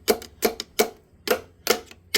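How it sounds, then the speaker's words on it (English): Six sharp metallic taps at a steady, slightly uneven rhythm, close up, as a hammer strikes a part to pop it open on an abandoned Plymouth Neon. "might have to pop this with the hammer."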